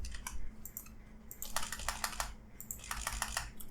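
Rapid bursts of computer keyboard typing while code is entered, crisp clustered key clicks arriving in two quick runs separated by a short pause, close and clear with no talk.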